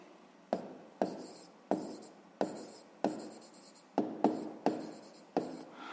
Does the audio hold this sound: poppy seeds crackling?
no